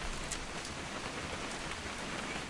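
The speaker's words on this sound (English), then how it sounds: "It's gonna rain the whole weekend, isn't it?" Steady rain in a video game, a continuous hiss of falling drops on surfaces with no talk over it.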